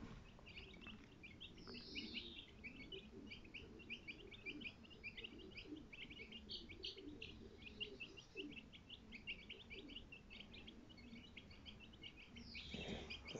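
Small birds chirp and call steadily in outdoor brush, bright overlapping tweets continuing throughout, with low rustling and ambient noise beneath and no talking.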